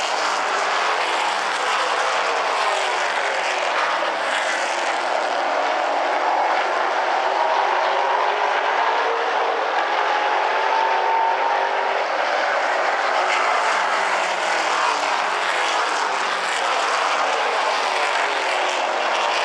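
Super Late Model race cars at South Sound Speedway, a loud continuous engine roar that swells and fades gently as the pack circulates, with no clear voices.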